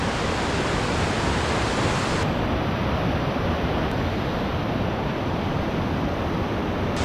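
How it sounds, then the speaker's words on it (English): Massive waterfalls and streams in northern Sweden pour with a constant, dense roar of rushing water that fills the whole scene evenly and never lets up. "we're gonna go head out and look at some really nice, massive streams and waterfalls"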